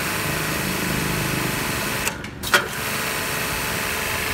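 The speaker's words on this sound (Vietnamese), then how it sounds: "Các bạn nghe tiếng máy này, nghe tiếng động cơ nhá, phải nói nó cực êm luôn." Steady, fairly quiet motor of a car pressure washer with a high-pressure pump head, running smoothly and evenly throughout, with two brief dips and a small knock near the middle.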